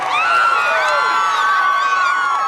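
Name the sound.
crowd erupting in cheers outside the Phoenix courthouse after guilty verdict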